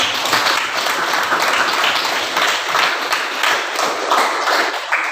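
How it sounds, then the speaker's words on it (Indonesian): Classroom applause for a student group in a teacher training session, steady dense clapping from many hands filling the room throughout, fairly loud and continuous with no talk over it. "kita kasih dulu tepuk tangan untuk kelompok 2"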